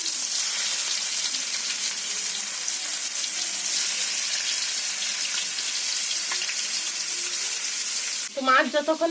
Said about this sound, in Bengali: তো বন্ধুরা, আমি এখন মাছটা দিয়ে দিচ্ছি।